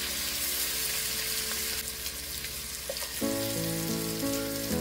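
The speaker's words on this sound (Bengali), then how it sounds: "এই কেটে রাখা আলুগুলো দিয়ে তারপরে নুন হলুদ এইসব দিয়ে একটু ভালো করে কড়া করে আলুগুলো ভেজে নেব" Cut potatoes frying with salt and turmeric in a pan, a dense continuous crackling sizzle heard up close, steady throughout with a brief louder burst partway through, no talking.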